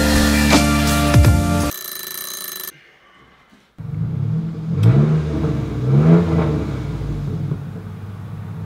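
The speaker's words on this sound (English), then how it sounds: "There's a mechanic right here. They're revving engines." Loud car engines revving in bursts at a nearby mechanic's shop, rising and falling pitch, after a brief pause; harsh mechanical drone close by with no talking.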